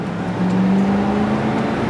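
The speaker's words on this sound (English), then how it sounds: "even though it's got a 289 two-barrel, it's got a little snort to it still" A 1966 Ford Mustang convertible with a 289 two-barrel engine drives along, giving a steady, fairly loud engine drone close up with a slight rise in pitch partway through.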